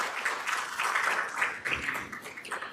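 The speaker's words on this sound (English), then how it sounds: "So a round of applause for all of you for being here with us today." Conference audience applause, a soft, fairly distant patter of clapping that holds steady for a few seconds with no voices over it.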